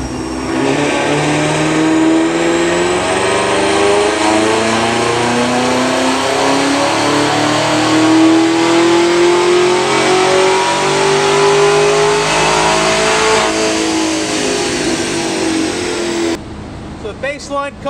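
A 2018 Cadillac CTS-V revs hard through a full dyno pull, its loud engine note climbing steadily for about sixteen seconds before cutting off abruptly, with a brief burst of other noise at the end.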